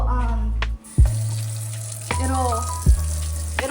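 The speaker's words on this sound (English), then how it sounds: "So we are going to drain some of the water, not all." Hot noodle water pours from a pot into a sink, a loud continuous splashing rush of draining water broken by a few short bursts and clanks.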